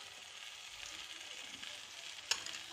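Potatoes sizzling in hot oil in a pan while being stirred, a steady close frying hiss with occasional scraping of the spoon and one sharp clink near the end.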